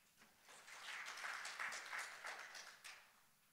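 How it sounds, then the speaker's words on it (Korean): Faint applause from a forum audience at a city-planning lecture, clapping that swells in over a couple of seconds, holds steady and then fades away. "큰 박수 부탁드립니다"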